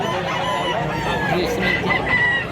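Roosters crow at a busy chicken market in Mantalungon, Cebu, their calls overlapping through steady crowd noise for the whole stretch.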